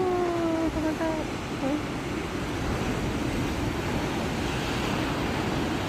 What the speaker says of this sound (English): Big waves, guys.